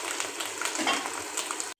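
Minced keema sizzles and crackles in a pan as it is dried and roasted, a steady close frying hiss that cuts off abruptly near the end.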